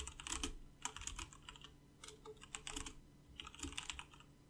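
Bursts of typing on a computer keyboard, clattering keystrokes in three quick clusters with short pauses between, close and fairly quiet, no speech.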